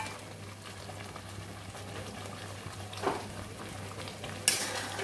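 Paneer simmers in a butter paneer gravy thinned with water, giving a low steady bubbling with a brief stir and a light clink of a utensil near the end.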